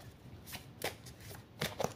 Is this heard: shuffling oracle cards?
yes